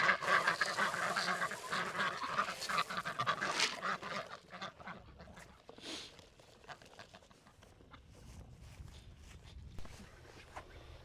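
Ducks quack excitedly at morning feeding time on a homestead, a busy cluster of calls that is loudest at the start and then thins out, mixed with footsteps and movement nearby.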